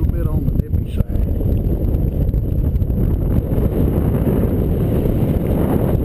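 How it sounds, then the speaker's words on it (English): A cold north wind blows over the water near a boat, a constant loud rumbling buffet across the whole stretch, with wind pressing against the microphone. "With this north wind blowing this morning, it's a little bit on the nippy side."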